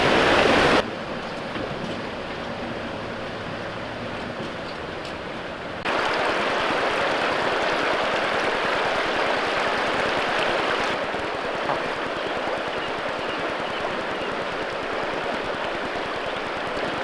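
A river in New Zealand's South Island, seen ahead of a 4WD crossing: steady broadband rushing flow, loud and continuous, with no voices.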